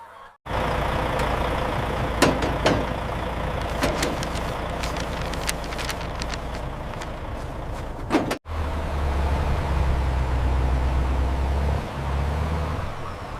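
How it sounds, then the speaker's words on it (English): Truck carrying thousands of chickens cruising along a highway, a steady close engine rumble and road roar, briefly cut at one point, with occasional clatter and a low droning hum later. "Cruising along the highway at a steady pace, this truck carries thousands of chickens straight toward the fried chicken factory."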